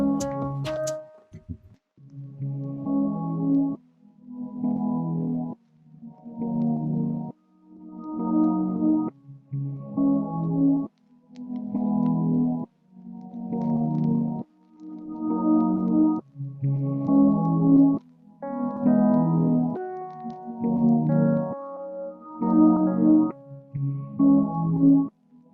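Trap beat programmed in GarageBand, with punchy booming bass hits and bright synth stabs repeating in a steady loop, the melody climbing higher toward the end, loud and close with no voices.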